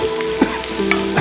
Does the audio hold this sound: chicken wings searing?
yes